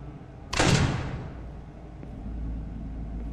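A door slams shut in the horror video game FNAF: Fazbear Nights, one loud heavy thud with a metallic edge that decays into a low rumbling ambience.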